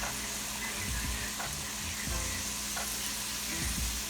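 Garlic simmers in a pan for shrimp and grits, giving a steady close sizzle and bubbling hiss with a few soft stirring knocks, no voices.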